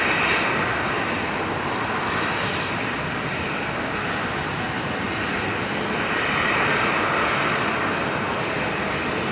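Continuous heavy roar of a Qantas jet airliner at Brisbane Airport, a broad steady engine rumble that swells slightly toward the end, loud and without talk.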